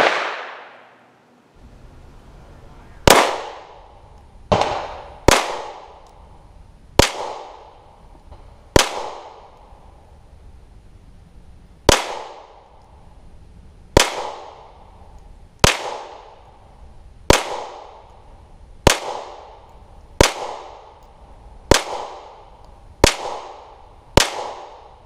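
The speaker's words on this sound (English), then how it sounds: "Let's put some rounds downrange." Polymer 80 pistol firing rounds downrange at an outdoor range during a function and point-of-impact test, heard as a dozen sharp, loud single shots spaced roughly one to two seconds apart, each with a short decaying echo.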